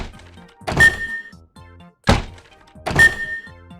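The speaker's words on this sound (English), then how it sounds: "These are two sounds that are used for the flipboards in Super Mario 3D World." Flipboard sounds from Super Mario 3D World: three short, punchy game thunks spaced about a second apart, each with a brief bright tail, loud and alone.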